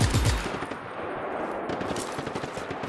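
Dual-wield pistol gunfire in Just Cause 3, a rapid, steady stream of loud, close shots that starts with a heavy burst and then rattles on continuously with no talk.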